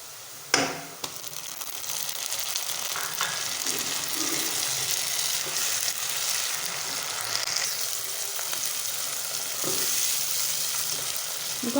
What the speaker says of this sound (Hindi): अब हम लेंगे 2 बड़े साइज़ के टमाटर, इनको भी मैंने छोटे छोटे पीसेस में काट लिया, तो वो ऐड करूँगी मसाले के अंदर।